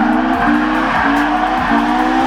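An old car drives past with a steady, close engine drone and tyre rumble, with faint periodic thumps from the road running through it.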